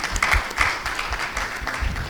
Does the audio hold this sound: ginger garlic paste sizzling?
no